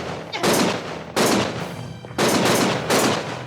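Loud close bursts of automatic gunfire in Lost Judgment, three or four sustained volleys separated by brief pauses, harsh and dense.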